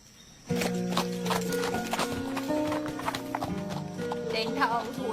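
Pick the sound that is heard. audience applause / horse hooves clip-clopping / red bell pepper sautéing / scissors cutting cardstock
horse hooves clip-clopping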